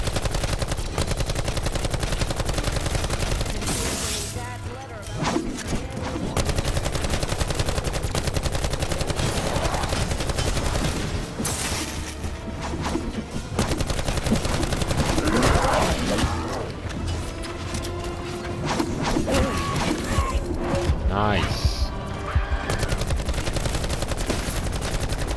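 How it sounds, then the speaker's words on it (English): Rapid gunfire from a zombie-shooting video game, bursts and machine-gun volleys cracking near and loud almost continuously, with brief dips between flurries and dense game noise underneath. "Shooting the head."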